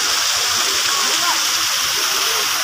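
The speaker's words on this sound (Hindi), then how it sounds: "पानी चल रहा है" Running water at a crowded outdoor waterfall spot, a steady broadband rush and splash filling the whole clip with a faint murmur of distant crowd voices beneath.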